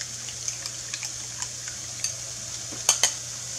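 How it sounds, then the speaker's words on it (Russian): Grated carrot is stirred into an omelette egg mixture in a bowl, with soft scattered clinks and scrapes of a utensil and a pair of sharper taps near the end, over a faint background hum. "Морковь я высыпаю в омлетную массу и перемешаю."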